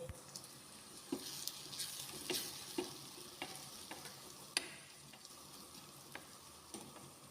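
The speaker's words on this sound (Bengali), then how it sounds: "আমি এভাবে হালকাভাবে ভেজে নিছি" Pasta ingredients lightly frying in a pan for a home-style restaurant pasta, with a soft steady sizzle and recurring scrapes and clinks of stirring, fairly quiet and close.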